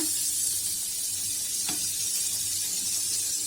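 Pieces of goat meat fry in hot oil for nasi mandhi, a loud, continuous bright sizzle with a faint low hum beneath it and one brief pop partway through.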